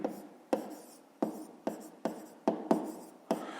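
A pen moves across paper in short scratchy strokes, roughly eight quick bursts in an uneven rhythm, close and quiet.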